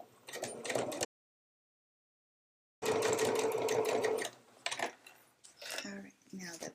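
Sewing machine stitching down a pleated hip bag panel, a short steady run of close mechanical whirring after a silent gap, with a voice speaking before and after.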